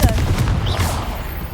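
A Confringo blasting spell fires in Hogwarts Legacy, rapid booming fiery blasts over loud, continuous game combat noise.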